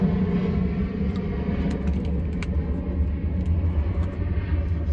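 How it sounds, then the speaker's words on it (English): An airplane passes overhead, a loud continuous low roar and rumble that fills the outdoor space steadily with no talk. "If these airplanes keep interrupting, I might not be able to do my live stream right here. It's really, really, really loud."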